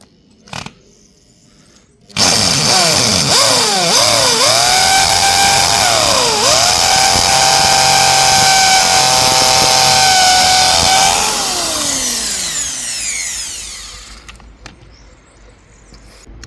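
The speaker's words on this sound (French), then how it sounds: "Donc une fois que ton rail est percé, tu viens percer" A power drill bores into the concrete edge of a backyard pool to fix the rail, with a loud whining motor that starts abruptly, holds steady for about nine seconds, then winds down and stops.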